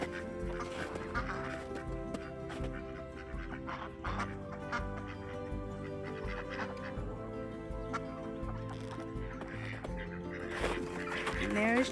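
Hens cluck and call inside a winter chicken coop, a steady chorus of birds close by with scattered louder squawks, while a person talks softly over them.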